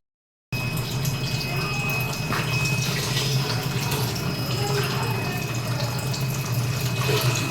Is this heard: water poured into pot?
yes